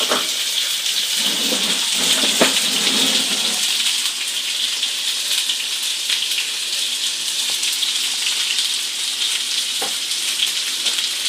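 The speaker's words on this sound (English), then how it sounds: "I put some olive oil and butter. I'm going to pan sear this." Rib eye steak searing over very high heat in a pan of olive oil and butter gives a loud, steady hiss and crackle throughout, with a few sharp pops and spatters and no voices.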